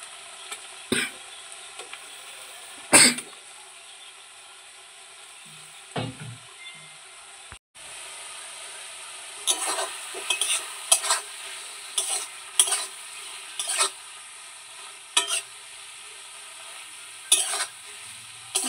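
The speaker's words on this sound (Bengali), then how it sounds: "মাছগুলো মশলার সাথে ভালো করে কষিয়ে নিচ্ছি" Pangas fish stirred and fried with spices in a pan: a low sizzle under repeated bursts of spatula scraping, irregular and close, growing busier toward the end.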